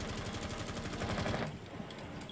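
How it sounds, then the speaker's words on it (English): Rapid bursts of gunfire in a Rainbow Six match, fast rattling shots in a dense volley that thins out near the end, moderately loud throughout. "Here, a lot of gunfire"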